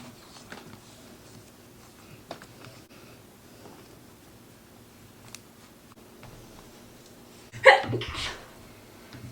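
A single sharp sneeze bursts out near the end after quiet background rustling and faint ticks.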